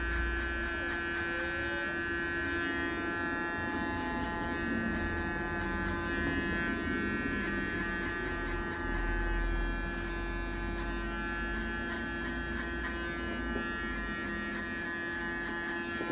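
Hair clippers run steadily close by, trimming the lower hair of a short sports haircut down to 3–4 mm, giving a continuous electric buzz with no talk.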